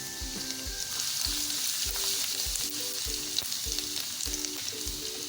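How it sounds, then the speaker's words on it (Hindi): Finely chopped garlic frying in oil in a kadai, a continuous close sizzle and crackle with a steady rhythm of low thumps and scraping stir strokes, no talking over it. "अब हम ऑयल के अंदर डालेंगे लहसुन फाइन चॉप किया हुआ।"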